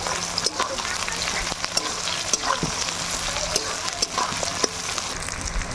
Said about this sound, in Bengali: পেঁয়াজ লাল লাল করে ভেজে নিলাম।